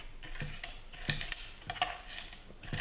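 A kitchen knife scrapes and presses garlic mixed with a teaspoon of coarse salt on a cutting board into a paste, giving soft, repeated scraping strokes with a few sharper clicks, close and fairly quiet with no talking.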